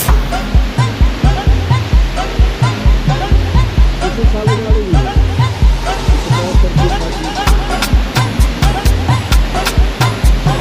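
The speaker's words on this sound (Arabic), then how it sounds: "الينج بلغتهم هما الشلال المخفي، يعني متخبي." Leng, a hidden waterfall in Bali, roars steadily up close, with rhythmic thumping and clattering noises and some voices nearby.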